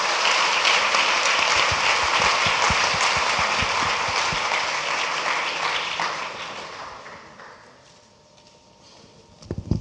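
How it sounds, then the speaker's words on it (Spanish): Audience applause after a panel session at an international regulation workshop, a loud dense clapping that rolls on for several seconds, then thins and fades toward the end as a few scattered claps remain. "lo único les pido pues un fuerte aplauso"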